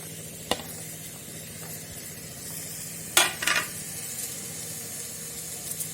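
Moong dal and vegetables with turmeric and salt fry quietly in a pan, giving a soft continuous sizzle broken by a couple of sharp metallic clinks and spoon scrapes.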